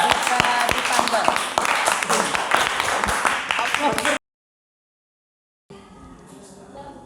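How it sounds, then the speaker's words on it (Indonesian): Classroom applause for a group's answer in a religious tolerance lesson, a few seconds of scattered clapping from many hands with voices mixed in, then a sudden silence before quieter room sound returns. "Kasih aplaus"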